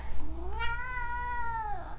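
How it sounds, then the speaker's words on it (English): A pet cat lets out a single long, clear meow that rises and falls, close by and alone over faint background hum. "Oh, the kitty!"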